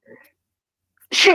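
A person sneezes once, loud and close, right after a brief soft exhale and a moment of near silence.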